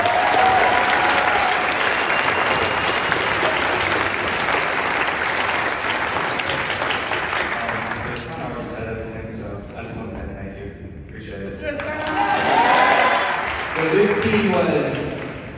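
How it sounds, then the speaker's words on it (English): An audience applauds a state champion boys' soccer team at a ceremony with loud, sustained clapping. It thins out midway, swells again briefly, and voices are heard underneath. "So round of applause for them."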